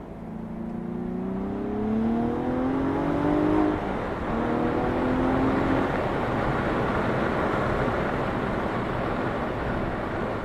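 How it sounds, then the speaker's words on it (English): A 2016 Cadillac ATS-V engine with automatic rev matching climbs in pitch, dips briefly at a shift, then climbs again before settling into a steady, loud engine and road roar heard from inside the car, with no talking. "Got the auto rev matching system on just to see how well it works, which is pretty well."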